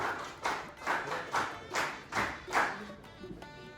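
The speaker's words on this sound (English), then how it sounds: "So have a huge round of applause for Bharat." Audience applause at a district-level science exhibition prize distribution ceremony: about seven distinct swelling bursts of clapping in a loose rhythm, moderately loud, fading into quieter scattered claps at the end.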